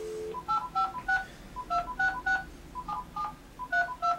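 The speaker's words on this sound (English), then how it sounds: "I'm dialing my iPhone right now." A Magicjack phone dials a number, a series of short electronic keypad tones in quick clusters with brief pauses between groups, clear and close with no talk.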